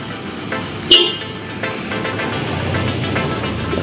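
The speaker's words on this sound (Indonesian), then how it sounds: "kendaraan melewatkan, klaksonnya sangat kuat guys" A vehicle passing on a road in Pontianak gives a brief, sharp honk of its horn over a continuous bed of traffic and engine noise.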